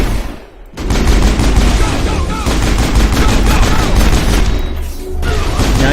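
Sustained gunfire in the sci-fi shooter Mass Effect crackles in dense, overlapping bursts that keep up almost without a break, loud and close, with heavy booms mixed in.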